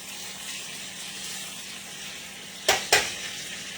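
Food frying in a pan for teriyaki sauce, a steady sizzle running throughout with two sharp louder bursts near the end as the pan is shaken.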